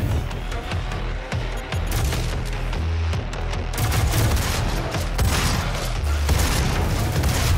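Dense gunfire in the video game DOOM, rapid overlapping shots and booms over a continuous loud game soundtrack, with no pauses.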